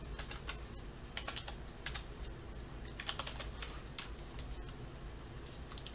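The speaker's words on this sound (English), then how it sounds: "We're going to type in msconfig." Someone types msconfig on a computer keyboard in a quick, steady run of crisp, close keystroke clicks over a low background hum, with no voices.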